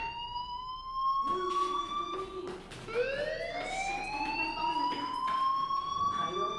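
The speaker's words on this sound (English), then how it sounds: "Hey, do you hear that fire alarm? That means you should be outside." A school fire alarm in the video game Life is Strange, a loud steady ringing wail with rising pitch sweeps, running continuously with faint voices beneath.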